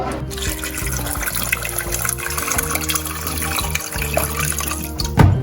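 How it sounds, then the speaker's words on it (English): Water runs steadily into a pot of raw papaya with salt and baking soda for an Assamese alkali dish with fish head, a continuous close splashing pour that swells briefly near the end. "add water"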